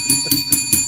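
A bell rings as a sound effect, four bright evenly spaced strikes over about a second, loud and ringing on with sustained metallic tones.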